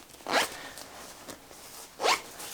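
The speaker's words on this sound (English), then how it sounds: "there might be some ventilation pocket, ventilation zipper, I guess I should say, on each arm" An arm ventilation zipper on a synthetic down puffy jacket is pulled in two short, crisp rasps about one and a half seconds apart. Both are close and clear against quiet.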